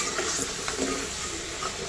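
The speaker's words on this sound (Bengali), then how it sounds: "দেখো বেগুন ভাজা আলু ভাজা হচ্ছে" Eggplant and potato slices fry in hot oil for a home-cooked vegetarian meal, giving a steady, moderately quiet sizzle and hiss throughout with faint stirring clicks and no talking.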